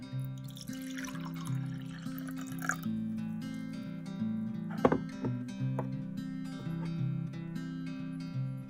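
Water being dumped out of a bowl, with a splashy pour near the start, a sharp splash midway, then scattered drips and small clinks, close and fairly quiet.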